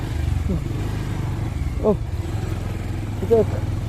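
A motorbike engine hums steadily throughout while riding at Kuakata, with a couple of short higher-pitched sounds rising over the constant road drone.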